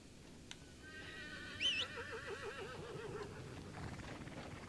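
A horse in the video game Crimson Desert gives a loud, clear whinny, rising and wavering before trailing off, over steady game ambience with faint hoof clatter.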